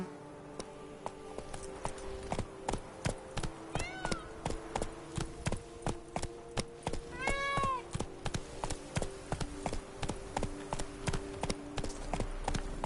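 Horse hooves galloping in The Witcher 3 game, a fast, regular clip-clop rhythm close up that continues throughout, with a couple of short high-pitched whinny-like calls partway through.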